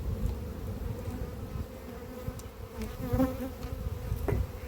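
Honey bees buzz around a hive in an apiary, a dense continuous hum with individual bees swelling louder as they pass close by, and no talking.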